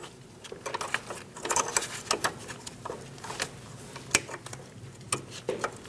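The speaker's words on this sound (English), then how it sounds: "We're going to be torquing the nut here and holding the head of the bolt." Wrench torquing a strut mount nut on a 2008-2015 Scion xB while the bolt head is held, heard as a quick series of close, crisp metallic clicks and ratcheting ticks with small handling knocks.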